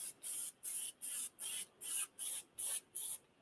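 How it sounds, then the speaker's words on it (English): Sticky spray adhesive hisses from a nozzle in a woodturning shop in eight short, evenly spaced bursts, each a bright, steady spray with brief silent gaps between. "That's sticky spray."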